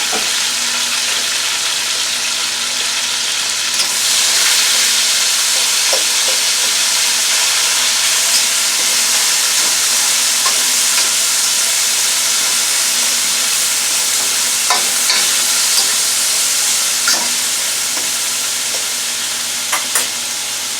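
Onions and peppers fry in olive oil in a pan for a smothered chicken dish, giving a loud, steady sizzle and hiss throughout, with a few faint clicks of stirring and no talk.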